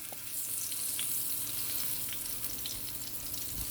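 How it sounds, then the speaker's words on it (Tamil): Eggplant slices fry in hot oil for a Kathirikkai fry, giving a steady, close hiss and crackle that keeps up without a break, with a few faint pops and clinks. "இப்போ ஒரு சைடு வந்து நல்லா வந்து ஃப்ரை ஆகட்டும்."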